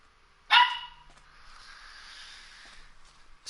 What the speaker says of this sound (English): Sorry if you hear barking, that would be my dogs.